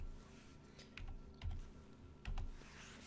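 Quiet keyboard typing and backspacing on a computer, a handful of soft clicks with a few slightly heavier key thumps, close and isolated over low room noise.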